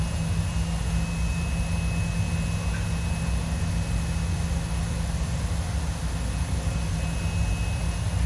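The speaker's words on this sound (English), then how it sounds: "It's a funny little airplane" A BD-5 small single-engine airplane in flight, its engine a steady, unbroken drone heard from inside the cockpit, loud and constant with a low hum and faint high whine throughout.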